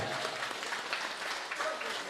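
Wedding guests applaud at a Ukrainian wedding celebration, a soft, steady spread of clapping from a crowd, fairly faint and distant, with a few voices mixed in.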